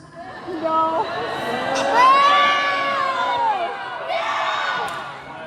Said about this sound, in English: I'm so glad you're booing